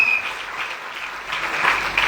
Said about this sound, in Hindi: तो चाहूंगा वो सच्चे मन से 2 तालियां सबके लिए हो जाएं